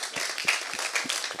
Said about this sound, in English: Round of applause for Masar.